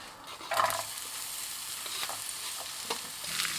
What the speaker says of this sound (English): on the same pan, I am now gonna go ahead and add my chopped onions